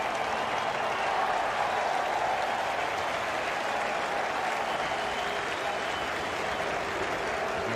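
Steady, dense applause and cheering rises from a large crowd at the 1987 Pakistan vs England World Cup cricket final after a lofted boundary shot, sounding distant and continuous without break.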